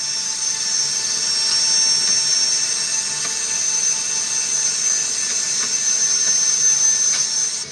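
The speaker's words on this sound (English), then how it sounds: "Behind them, the C-17 is already moving. Ramp up, engine spooling." C-17 transport aircraft engines spooling up on a base ramp: a sustained, high-pitched turbine whine with steady tonal lines over a soft roar, holding loud and even without talk.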